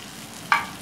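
Onion, tomato and spices frying together in a pan for egg bhurji, a soft low sizzle broken by one brief sharp scrape or clink near the middle, close and without speech.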